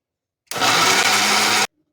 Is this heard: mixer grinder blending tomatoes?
yes